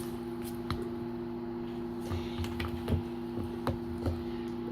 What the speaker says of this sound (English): we're going to stir the sour cream together first.